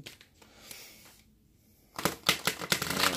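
Quiet rustling, then a run of quick papery riffles and taps as sticky tarot cards are shuffled close by, with no voices.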